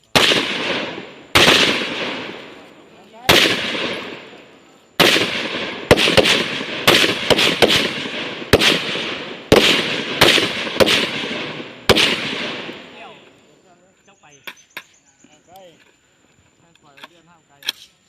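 Live-ammunition gunshots at a military firing range during training for new recruits, a string of loud, sharp cracks spaced irregularly, some in quick pairs, with voices faintly in the gaps.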